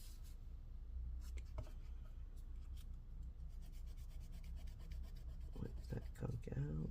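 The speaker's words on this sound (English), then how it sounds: "Wipe that gunk out if we can." Soldering iron tip being wiped clean of gunk during hobby electronics assembly, a faint repeated scraping and rubbing close by, with brief soft voice sounds near the end.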